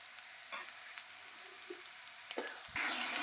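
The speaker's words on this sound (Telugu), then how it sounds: "ఇది కొంచెం ఆయిల్ పైకి వచ్చే వరకు వేగనిద్దాం" A soft, continuous sizzle of ginger-garlic paste frying in oil, with a few light taps and a louder burst of hissing near the end.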